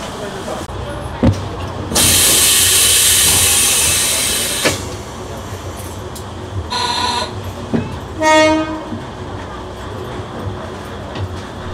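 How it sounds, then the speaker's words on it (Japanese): A Kominato Railway KiHa 200 diesel railcar passes at a station, with a loud broadband rush of engine and wheels for a few seconds, then fainter rumble and a couple of short tonal horn-like blasts, with people talking nearby. "お父さんとキハ200来たらええなって言ってたらほんまに来ました"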